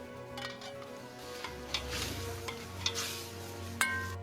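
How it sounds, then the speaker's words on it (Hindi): Meat browning in aromatic spices over a high flame for Kashmiri wazewan, a soft steady sizzle under occasional clinks and scrapes of a stirring utensil against the pot. "गोश्त को कुछ खुशबूदार मसालों में तेज आंच पे भूना"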